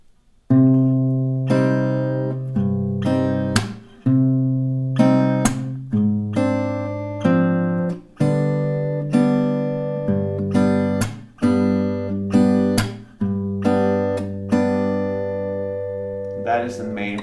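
Acoustic guitar plays a song at a slow tempo, sustained strummed chords ringing steadily with sharp strums every second or so, close and alone with no talking.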